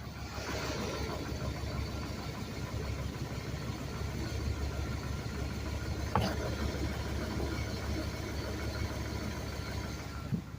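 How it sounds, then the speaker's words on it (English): Truck engine idling with a diesel-like sound, a low, steady rumble continuing throughout with no talk. "You can hear it. It sounds like a diesel."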